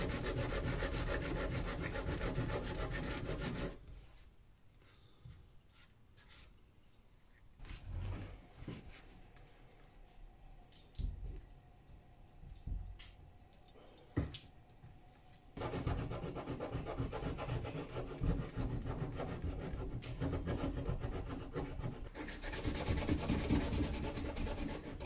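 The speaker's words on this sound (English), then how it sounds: "and then just rub it in. What will happen is the sawdust will go in the gap with the glue." Sawdust and glue rubbed into a gap in old wood with a socket from a socket set, loud rough grinding rubs at start and end around a quieter middle stretch of scattered knocks and scrapes.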